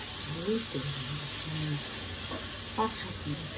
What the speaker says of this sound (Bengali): এবার আস্তে আস্তে এটাকে একটুখানি কষতে দিতে, হ্যাঁ কষতে দিতে হবে মশলাটাকে।